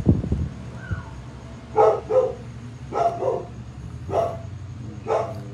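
A house dog barks in a series of about five sharp, separate woofs spaced roughly a second apart, fairly close, after a brief thump at the start.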